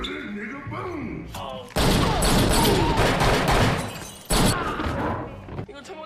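Rapid bursts of gunfire and crashing impacts in an action film scene, dense and loud, broken by a brief pause, with talking mixed in between volleys.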